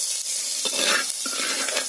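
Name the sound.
oil sizzling in a pan while cooking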